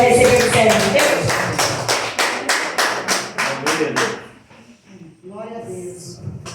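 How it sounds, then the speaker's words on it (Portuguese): Congregation at a church service claps to welcome the preacher, a burst of rhythmic, fairly loud handclaps that builds and fades after about four seconds, followed by a voice speaking. "E uma salva de palmas para receber o servo de Deus."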